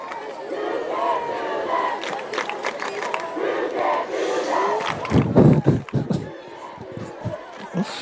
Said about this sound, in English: Giving the White County students something to cheer about.